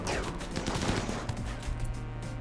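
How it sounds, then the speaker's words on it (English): A Tox launcher mortar firing in the colony game RimWorld: a dense, noisy burst of rattling blasts with overlapping crackling impacts, loud and continuous for a couple of seconds. "I think one of the mortars fired, maybe? Oh, it's one of the Tox launchers again."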